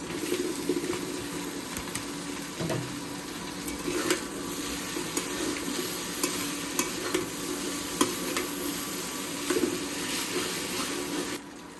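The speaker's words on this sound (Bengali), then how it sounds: "এখন দিয়ে দিব নুডলস" Noodles stirred in a pan during home cooking, with steady sizzling and frying plus repeated scraping stirs and light clinks across the whole stretch, close and moderately loud, no talk.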